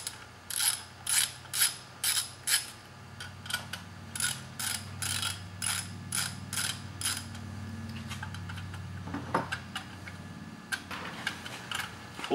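A 10mm ratcheting wrench loosens the airbox bolts on a generator, crisp close ratchet clicks in a quick regular rhythm, pausing briefly before a longer, faster run of clicking with a small clank.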